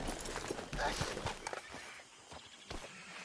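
Horse hooves clop on the ground in Red Dead Redemption II, under overlapping talk and background noise, an uneven walking rhythm at moderate distance.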